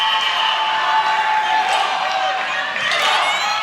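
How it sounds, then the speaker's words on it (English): A loud, dense crowd cheers continuously at an ISL swimming match in Dallas, a broad roar that fills the whole moment while a commentator talks over it. "The crowd here in Dallas, they're loving it."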